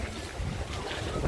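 Strong wind buffeting a phone microphone outdoors in Mindoro, a continuous loud rumbling roar with gusty low-frequency thumps and no clear voices.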